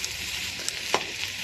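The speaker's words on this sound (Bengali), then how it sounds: "এবার একটু ভালো করে আমি নেড়ে চেড়ে নেব।" Paneer curry with peas being stirred and fried in a pan: a soft, even sizzle with a couple of brief scraping taps of the spoon.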